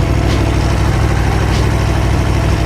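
Standard Aprilia Tuono 1100 motorcycle engine idling, a steady low rumble with a continuous throb held at an even level throughout, close by and with no talk over it.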